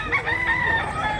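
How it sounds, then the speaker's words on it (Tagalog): At a market in Mantalungon, Barili, a rooster lets out a short, steady crow, close and fairly loud, with a low murmur of background noise beneath it. "Pagdangig manok diri mga idol."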